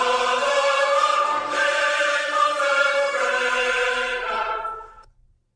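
A single unaccompanied vocal line from a Handel piece sings one sustained, richly resonant phrase that fades out at the end.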